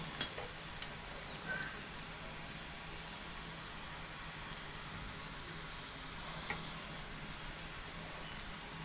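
Onions fry slowly over low heat in a pan, a faint, even, hissing sizzle that holds steady with a couple of soft clinks and no talking.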